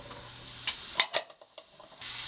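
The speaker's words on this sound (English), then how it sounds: "heat some olive oil over medium-high heat, add your red peppers, add your onions" Red and green peppers with onions sautéing in olive oil in a large skillet over medium-high heat: a soft, steady sizzle broken by a few sharp scraping stir clicks, a brief quieter dip, then the sizzle resumes.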